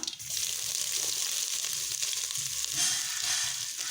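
Ground pepper, cumin and garlic paste sautéing in oil for jeeraga rasam, a steady hiss and sizzle with some wet bubbling, close and fairly loud, no talking.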